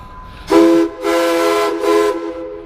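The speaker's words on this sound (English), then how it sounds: "Especially you can go up and blow the whistle." A full-size train whistle blown by visitors at a model train show sounds in three loud, steady, chord-like blasts close by, the first short and the next two longer, with no talking.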